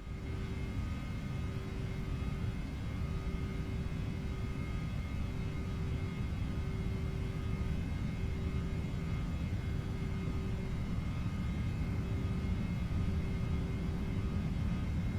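An airliner rolls down the runway for takeoff in the P3Dv5 flight simulator, its engines producing a steady, loud jet roar and rumble with a constant whine tone throughout, no voices over it.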